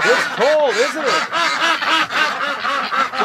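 Several ducks in a cold barn quack in quick, repeated bursts, nasal and close, with calls overlapping in a lively, steady chatter.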